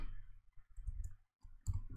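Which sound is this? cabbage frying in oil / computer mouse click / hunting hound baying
computer mouse click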